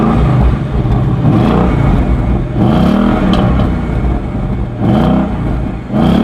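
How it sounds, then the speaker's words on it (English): Ford Mustang convertible V8 in sport mode, revved hard several times up close, each rev a loud, rising roar with a deep rumble and clatter, separated by brief dips. "whack this into sport mode and give you a few revs so you can hear the V8"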